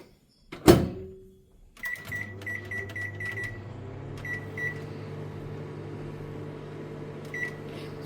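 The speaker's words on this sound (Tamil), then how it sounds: "நான் இப்போ மைக்ரோவேவில் ஒரு 5 நிமிஷம் வச்சு எடுத்துக்கிறேன்" A microwave oven heating a bowl of tindora for five minutes while Mangalore-style curry is cooked: a door clunk and loud thump, then a steady close hum with an occasional soft beep or click on top.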